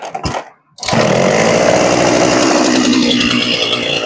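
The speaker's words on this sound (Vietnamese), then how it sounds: "Rồi một cái cưa Shinewa 400." A Shindaiwa 400 chainsaw engine sputters briefly, cuts out, then roars to life and runs loud and steady nearby.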